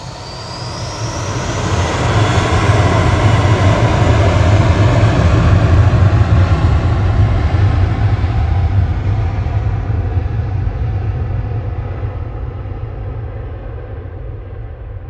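Jet airliner passing at Manchester Airport, a loud roaring engine rumble that swells to a peak midway and slowly fades as the aircraft moves off, no talking.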